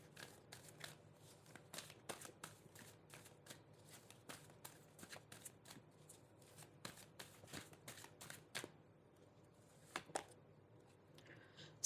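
Tarot cards are shuffled in a quiet room, a run of soft rapid riffling snaps and slaps that repeat irregularly, close and fairly faint, with no talking.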